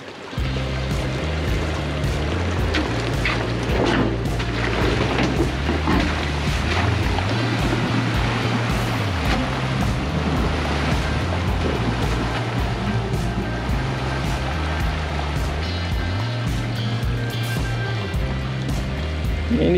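A four-wheel-drive vehicle fords a creek in Tasmania, with a continuous loud rush of churning, splashing water and a low engine rumble running through the whole stretch.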